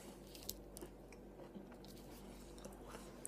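Someone chews a bite of sandwich with crunchy bread, ketchup and a soft filling, producing quiet, irregular crunches and soft squishy bites close to the ear with no talking.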